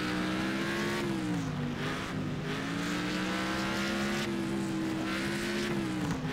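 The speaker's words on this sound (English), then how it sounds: "The engine is really loud." A loud, steady car engine roars continuously with a rising and falling pitch in a racing video game, with no talking.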